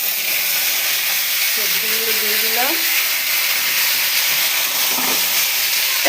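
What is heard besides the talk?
vegetables frying with dried chillies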